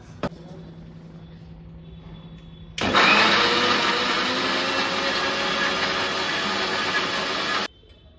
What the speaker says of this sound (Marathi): पाणी टाकूया आणि मिक्सरमधून फिरवूया